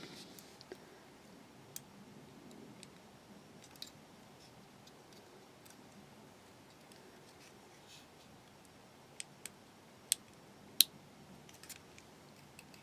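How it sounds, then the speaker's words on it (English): Faint, sparse plastic clicks and ticks come from a Bandai 1/72 scale Y-Wing model kit as parts are handled, scattered irregularly over quiet background, a few sharper ones near the end. "There's several clicking noises"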